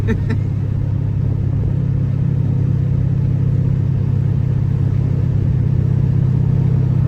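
Fourth-generation Pontiac Firebird Formula/Trans Am V8 running steadily, heard from inside the car as a loud, constant low rumble with a deep engine drone and no clear rise in revs.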